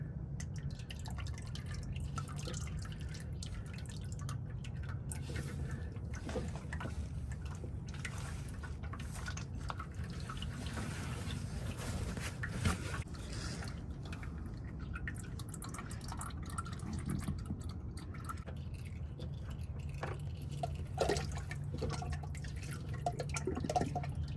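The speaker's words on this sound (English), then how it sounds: "you guys are gonna see what I'm talking about with the damn oil spilling everywhere" Engine oil drips from the loosened drain plug of a 2019 Ford Transit EcoBoost work van, a steady low patter of liquid falling and splashing over a continuous dull background, with no talking.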